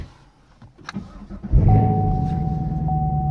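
A 2016 Chevrolet Camaro SS automatic coupe cranks briefly and fires up, its V8 catching with a loud burst and then settling into a deep, steady idle rumble, close by with no talk.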